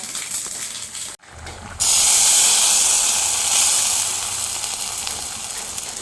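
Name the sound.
mustard seeds sizzling in hot oil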